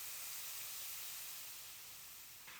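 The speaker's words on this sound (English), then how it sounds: "It's a hot pan, so it immediately starts bubbling and fizzing." Stock added to a hot pan while deglazing chicken fond, a continuous bright fizzing hiss that stays loud and steady, tapering slightly toward the end.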